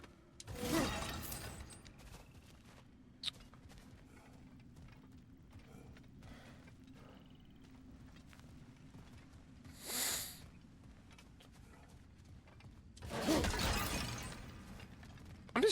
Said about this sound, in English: I'm just waiting for Tyr to comment on my smashing of all pots in the area.